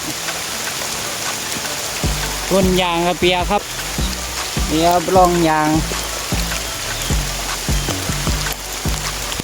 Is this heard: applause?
no